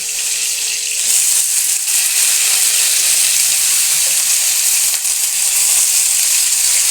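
Steady, loud sizzling of vegetables frying in a pan, a continuous crackling hiss with occasional stirring scrapes and no voices.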